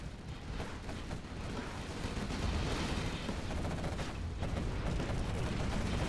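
Dense, continuous battle fire from Command & Conquer Generals Zero Hour, with a Dominator tank firing on quad cannons amid overlapping blasts and impacts, loud and sustained with no talk.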